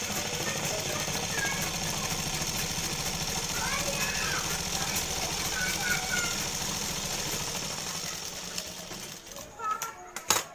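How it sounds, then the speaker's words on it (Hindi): An electric sewing machine runs steadily for about nine seconds while stitching a seam into fabric, its dense mechanical whir sitting under faint background voices before stopping, followed by a few brief clicks. "अब हम इसमें एक सिलाई और लगाएंगे"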